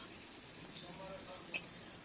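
Pieces of pointed gourd (potol) frying in oil, a faint continuous sizzle with a brief sharp clink near the end.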